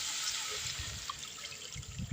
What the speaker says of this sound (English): So I'm just gonna pour some water onto it.